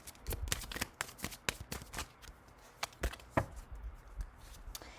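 Tarot or oracle cards shuffled by hand, a run of crisp riffling bursts and taps close up, with no talking.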